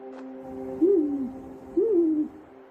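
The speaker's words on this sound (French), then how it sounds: "La chouette laponne va lui faire une petite démonstration." A great grey owl gives two low, drawn-out hoots about a second apart, clear and fairly close over a faint steady background hum.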